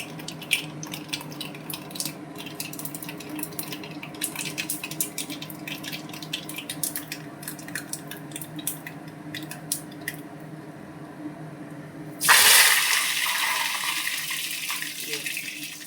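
Mustard seeds crackle steadily in hot coconut oil, then a watery curry liquid is poured into the pan near the end, bringing a sudden loud, rushing hiss that continues to the close.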